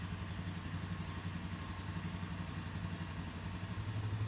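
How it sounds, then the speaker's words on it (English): A 2025 Polaris Sportsman 570 ATV engine idles steadily nearby, a low rumbling hum with faint clattering, continuous and unchanging throughout. "Now, start the engine and allow it to idle for 1 to 2 minutes."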